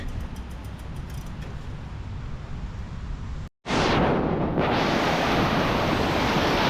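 Sea waves at Da Nang, Vietnam wash and roar continuously, broken by a brief dropout before a louder surge of crashing surf.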